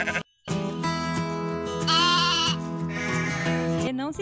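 Farm goat bleating loudly nearby, one long wavering cry after a brief pause, with a shakier second swell before it trails off.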